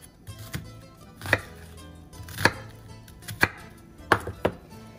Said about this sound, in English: I kind of hold it down like this while I put my knife through.